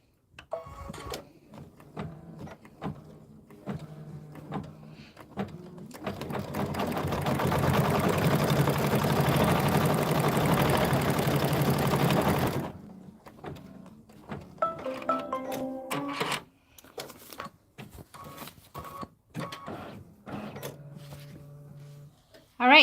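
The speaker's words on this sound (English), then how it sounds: "now we're going to stitch the sun placement line" A sewing machine stitches a yellow sun placement line on a mug rug, a loud rapid run of needle clatter lasting several seconds, framed by quieter handling taps and clicks before and after.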